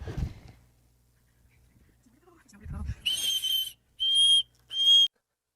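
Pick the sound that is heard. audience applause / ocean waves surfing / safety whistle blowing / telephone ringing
safety whistle blowing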